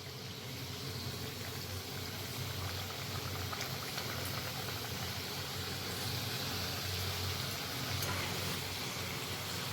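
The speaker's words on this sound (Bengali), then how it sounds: "এখন আমি এর মধ্যে কয়েকটা কামরাঙ্গা গজা ভাজার জন্য ছেড়ে দিচ্ছি" Kamranga goja, Bengali dough sweets, fry in gently heated oil over low heat, giving off an even, continuous sizzle with no talk over it.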